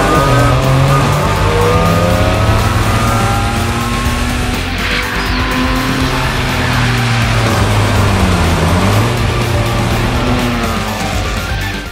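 Race car driven hard on a circuit by an aerobatic pilot, its engine roaring loud and close throughout with revving pitch changes and bursts of tire squeal, no talking.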